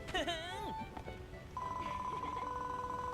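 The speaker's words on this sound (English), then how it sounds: "We heard the sound of a bell ringing and came over out of curiosity." In the Dragon Quest Builders 2 video game, a sustained bell-like ringing tone rises after a burst of voiced game sound and holds steady, moderately loud, to the end.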